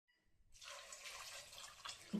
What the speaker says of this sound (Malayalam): കഷ്ണം വേകാനുള്ള വെള്ളം നമുക്കങ്ങ് ഒഴിച്ചു കൊടുക്കാം